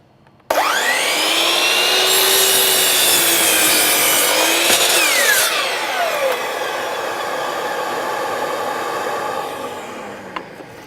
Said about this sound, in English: start the saw and cut it through